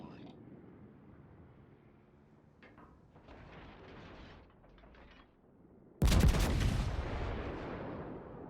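Naval gunfire in the World of Warships game, with mechanical creaks and rumbles building before a sudden loud, booming salvo blast that rolls on and decays, with voice heard underneath.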